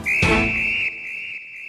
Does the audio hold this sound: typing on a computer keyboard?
no